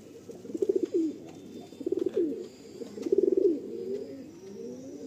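Madras pigeons at a breeder's loft in West Bengal give three separate bouts of soft, rolling cooing, each a short burst of throaty pulses with brief pauses between, heard alone.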